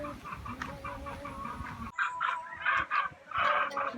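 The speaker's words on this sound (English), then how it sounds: "They'll then come and see the chickens." Chickens cluck at a chicken farm on an island eco centre, with a murmur of birds at first, then a run of louder, close clucks and calls, no talking.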